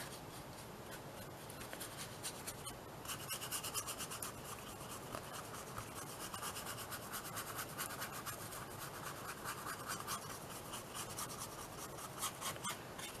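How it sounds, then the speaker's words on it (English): A small brush scrubs silver leaf flakes off a mixed media seahorse collage, a faint, steady dry scratching and rubbing that continues throughout, close and quiet, with no talk. "Let me just get a little brush and rub those off."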